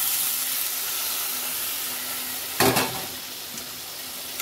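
Water poured into a pan of sizzling, lightly salted vegetarian vegetables: an even sizzle, then a sudden loud hissing burst that settles back into a softer bubbling sizzle.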